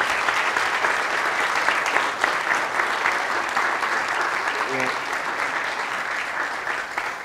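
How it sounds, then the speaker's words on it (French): Audience at a lecture on astronomy applauding the speaker, sustained dense clapping across the whole stretch at steady loudness, with a brief faint voice partway through. "On applaudit encore l'orateur."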